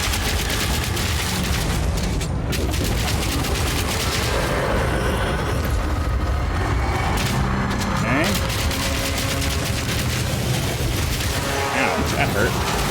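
Gunfire and explosive combat noise in a Path of Exile 2 boss fight at the Stone Temple, dense and continuous throughout with a busy game soundtrack, loud and close.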